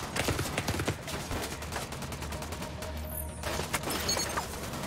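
Rapid gunfire in The Division 2, bursts of shots crackling close and loud over a steady low rumble, with a brief whooshing sweep midway.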